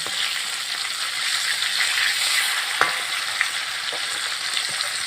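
Fish fries lightly in oil in a pan for a fish curry, making a steady close sizzle punctuated by a few sharp clicks and pops.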